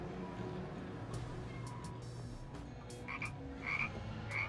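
Pog Frogs in the video game GTA Online croak in steady low repeated pulses over a quiet humming background, with a few brief high chirps and clicks scattered across it.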